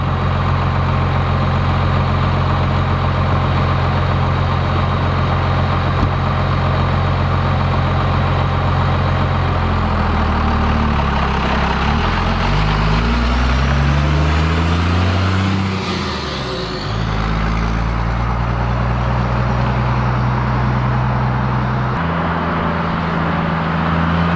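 A Dodge Cummins diesel pickup with a welded differential drifts, its heavy, close engine droning and revving, pitch sliding up and down in sweeping swells with a brief dip before settling back to a steady rumble.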